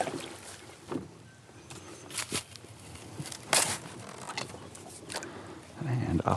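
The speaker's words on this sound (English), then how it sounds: "head out there in the kayak" A kayak sets out across calm spring water on a crappie fishing trip, with scattered soft paddle splashes and knocks over a quiet background and a louder splash near the end.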